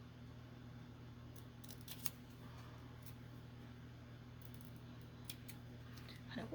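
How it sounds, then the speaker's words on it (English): Faint, crisp snipping sounds come in short bursts over a steady low hum, a few clustered cuts then a pause and more near the end. "it makes a funky sound and feel when I cut with them"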